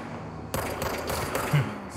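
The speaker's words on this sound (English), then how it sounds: "Gunshot." A loud burst of gunfire erupts suddenly after a brief quiet moment, followed by sustained rattling noise, close and forceful.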